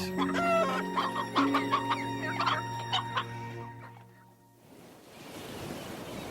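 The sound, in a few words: chickens clucking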